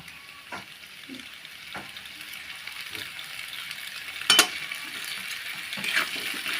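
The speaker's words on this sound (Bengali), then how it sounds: "ভালোভাবে পাস্তাটা ভাজা ভাজা করে নেব" Pasta fried in a pan at home and stirred, soft steady sizzling with occasional scraping and clinking of a utensil, a couple of sharper clacks midway, no talk.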